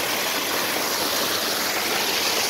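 Water flows in a creek with a steady, broad rushing wash that holds even throughout, with no voices.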